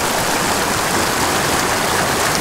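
A mountain stream full of brook trout rushes steadily, a dense, constant wash of flowing water close by with no pauses and no voices.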